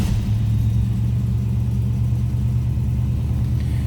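A 1966 Ford Mustang coupe's 289 V8 idles with a steady, loud low rumble close by, running evenly throughout with no talk over it.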